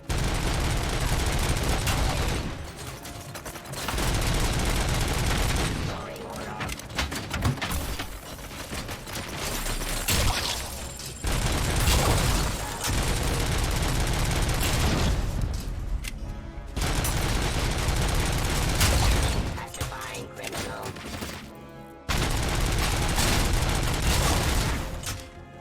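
Heavy gunfire in the Robocop video game, long loud bursts of rapid shots broken by brief pauses, mixed with impacts and booms from the game.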